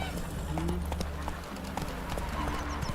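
Hooves of the horse Roach clip-clop steadily in a video game, close and continuous, with a brief whinny and a voice talking over the footsteps.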